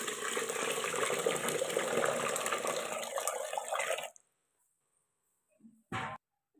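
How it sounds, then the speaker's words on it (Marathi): Water pours steadily into a container of rice for about four seconds, then stops, followed by a couple of brief small clatters. "तांदळामध्ये मी पाणी ओतून घेते।"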